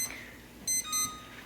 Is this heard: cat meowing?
no